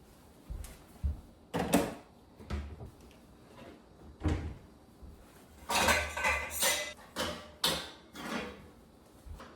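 Dishes and cutlery clatter as a dishwasher is unloaded in a home kitchen: sharp clinks of plates and silverware come in irregular bursts, close by, mixed with cupboard or drawer knocks and quiet pauses between.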